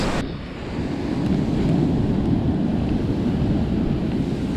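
Ocean surf rolls onto a sandy beach while raking for sand crabs, a loud, steady roar of waves with wind buffeting the microphone, no talk.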